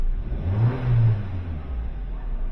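A Kia K5 1.6L turbo GDI engine (2021-2024) starts up close by, its low rumble swelling briefly before settling into a steady idle hum, with no voices.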